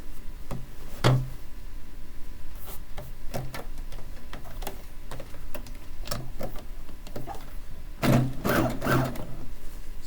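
A sewing machine works along a quilt border in slow, separate stitches, giving sparse ticks and knocks with a brief cluster near the end rather than a continuous run.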